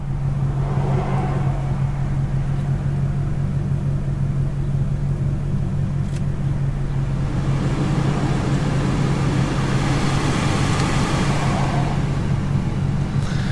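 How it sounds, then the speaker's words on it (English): Steady low droning hum of a BMW E39 540i's 4.4-litre V8 sitting at a raised idle, close and constant, with a faint swell of higher wash partway through and no speech. "Now, I don't know why it's deciding to idle a little high for some reason."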